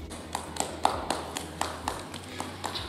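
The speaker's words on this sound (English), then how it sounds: "This is how you're supposed to clap in the auditorium" Students in a school auditorium clapping politely in a quiet, even rhythm, around a dozen soft evenly spaced claps with faint room noise between them.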